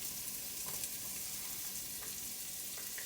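Roughly chopped garlic, three cloves, sizzling and frying in a hot pan, a steady close crackle with no one speaking.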